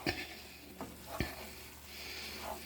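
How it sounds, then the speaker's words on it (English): A spoon stirs a beefy macaroni and cheese mixture in a hot pan, with a few sharp scraping strokes over a soft sizzle. "I'm trying to stir this without throwing it all over my stove."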